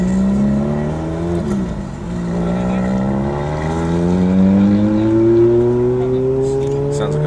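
Race car accelerating away on a track at North Weald, a loud engine note climbing steadily through the revs with a brief dip like a gear change, staying fairly close.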